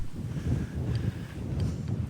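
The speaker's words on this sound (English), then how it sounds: "it's very windy now, and the reason for that is because we're right by the sea." Strong coastal wind buffets the microphone in a steady low rumble by the sea on a remote stretch of the Jurassic Coast, with no voices.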